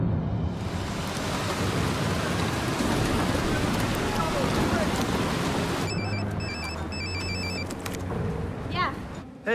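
A storm rages with loud, dense rain hiss and a deep thunder rumble underneath. The rain cuts off partway through and gives way to quieter electronic beeps and tones.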